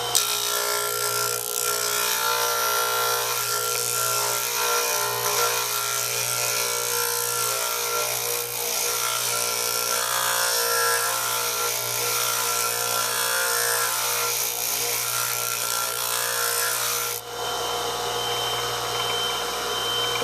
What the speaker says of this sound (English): I'll move this back and forth to grind that